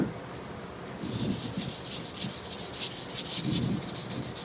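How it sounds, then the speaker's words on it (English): Wood being sanded as it spins on a lathe, a steady, close rubbing hiss that pulses rhythmically after a quieter start. "Means you won't have to sit here and watch me sand"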